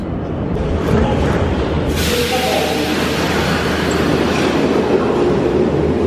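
Steady, loud rumble of a Tbilisi metro train in motion, with continuous rail noise and faint clattering, no voices standing out.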